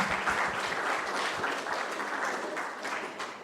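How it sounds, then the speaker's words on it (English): A crowd applauds someone speaker at a local elections gathering, steady dense clapping that fills the room for several seconds before easing slightly at the end. "let's give her a big round of applause"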